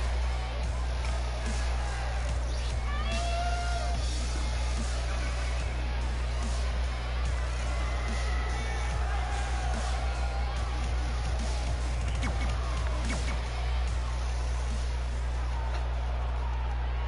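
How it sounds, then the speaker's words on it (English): A wrestling crowd at a Combat Zone Wrestling event roars and cheers before a match, a constant dense wall of distant crowd noise with scattered whoops and shouts under a steady low hum. "it sounds to me like the crowd is more than ready for this one"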